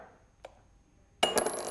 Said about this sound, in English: and the coin is inside the glass